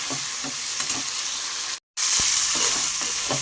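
Salted, turmeric-coated prawn heads fry in oil in a wok with a steady loud sizzle and a few soft stirring clicks, broken by a brief moment of silence partway through.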